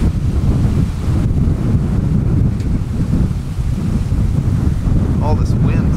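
Strong gusting wind during a windstorm roars and buffets the microphone continuously and loudly, with a few faint higher sounds briefly surfacing near the end.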